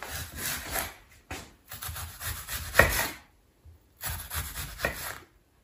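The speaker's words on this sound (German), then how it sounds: "Im ersten Schritt werden wir die geschälte Zwiebeln in feine Ringe schneiden." A knife slices peeled onions into fine rings on a board, giving short bursts of chopping and rubbing separated by brief pauses, close and clear.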